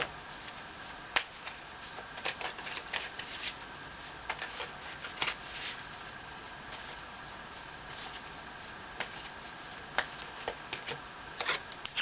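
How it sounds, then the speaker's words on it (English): Archangel Michael oracle cards shuffled and one drawn, giving a run of soft, quick close-up ticks and flicks of card stock over a faint steady hiss, with no talking. "I'm going to pull one Archangel Michael card"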